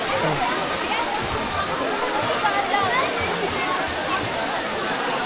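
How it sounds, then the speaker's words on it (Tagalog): A waterfall at Tanay, Rizal roars steadily and loudly up close, a continuous rushing wash of falling water with voices blending faintly into the noise. "Ito doon pinagmamalaking falls ng Tanay Rizal."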